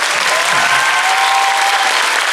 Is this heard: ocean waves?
no